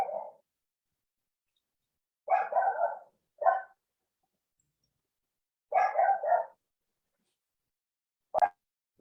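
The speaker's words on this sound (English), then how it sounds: "My dog's greeting everyone." A dog barks in separate bursts, a single bark, then a quick double, another single, a rapid triple and a final sharp yip, each close and clear against silence.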